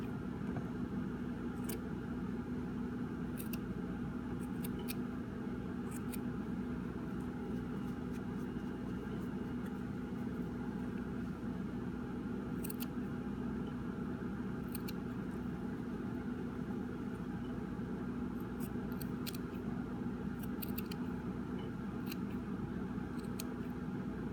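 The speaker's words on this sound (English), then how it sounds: "I usually like to trim these over top of a trash can" Scissors trim a yarn tassel over a trash can, giving scattered short snips in uneven bursts, fairly faint over a steady background hum of an idling engine.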